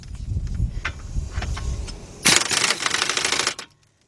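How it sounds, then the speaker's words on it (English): Pneumatic impact wrench with a 17mm deep impact socket on a 1/2 inch drive tightening the outer tie-rod nut on a 2006 Chevy Impala: a loud, close rattling burst of about a second after quieter handling clatter, then stopping. "what I'm using is a 17mm deep impact, 1/2 inch drive. Using my air gun, put it on tightening"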